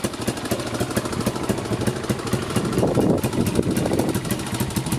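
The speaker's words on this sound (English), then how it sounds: "Good running quad." A Suzuki LT 185 quad idles steadily up close with a constant rough, chugging engine drone that holds at one level throughout.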